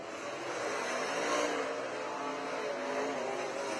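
Sprint race cars circle the Tri City Motor Speedway dirt track, producing a distant, steady roar of engines that swells briefly in the middle and then holds at a faint, even level.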